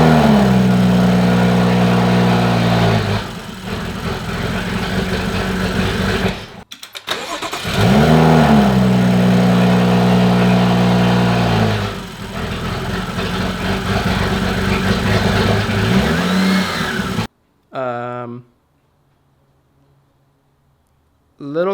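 A BMW 435i fitted with a racing cold air intake runs loud and close, its engine note rising and falling in revs, cutting out briefly near the seven-second mark, then dropping away to near silence with a faint whir at the end.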